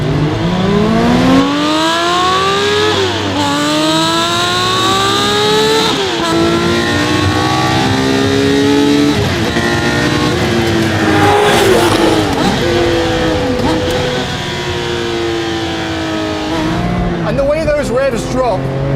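A Porsche 911 reimagined by Singer DLS revs hard through repeated rising sweeps and quick drops between gears, loud and close from inside the car, over a low rumble with a brief squeal near the end.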